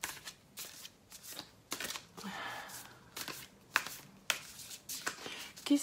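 Oracle cards being shuffled in short riffling bursts, close and fairly quiet, with a few sharp taps between bursts and no talking.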